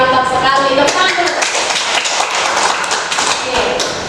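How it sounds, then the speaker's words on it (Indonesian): A classroom group claps in a dense, brisk burst of applause, many hands slapping at once, loud and close, thinning slightly toward the end. "Tepuk tangan dulu."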